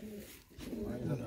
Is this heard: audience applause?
no